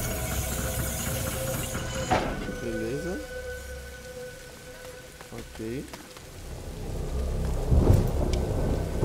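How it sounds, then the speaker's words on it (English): A rainy thunderstorm rolls through a video game set in medieval France, with steady hissing rain, a loud thunder crack, and low rumbles beneath intermittent character voices. "Don't worry, the storm will drown out our voices."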